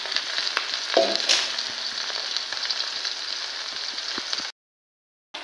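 Taro stems go into a hot pan with chili and garlic, and a loud, close, continuous frying sizzle crackles steadily with a brief stirring clatter, then cuts to silence before resuming faintly.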